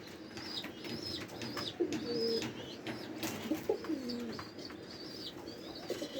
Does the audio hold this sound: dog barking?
no